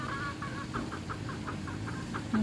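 Chickens cluck in a steady run of short, repeated calls, about a dozen in a row, close by over a low background rumble on a rural farm in the Philippines.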